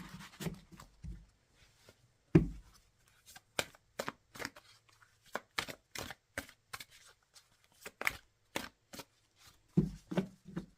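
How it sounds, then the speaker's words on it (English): Tarot cards are shuffled and pulled from a deck, a run of crisp, close riffling snaps and slaps, sparse at first and then coming in quick regular bursts. "Let's pull some more cards."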